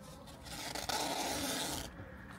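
A harsh, continuous ripping hiss of adhesive tape pulled from a roll, close by, lasting about a second and a half before stopping.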